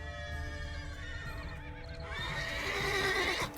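A horse in the video game The Witcher 3: Blood and Wine whinnies loudly, the high shrill neigh rising after a softer snort and breathy lead-in, alone without any talking.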